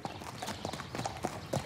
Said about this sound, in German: Da ist der Katholik hoch zu Ross beim Blutritt dabei, der Pferdeprozession in Weingarten.